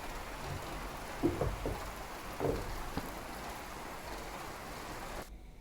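Steady rain pours down outside a home, a continuous hiss of drops with a couple of brief louder knocks mixed in, before the sound cuts off abruptly near the end.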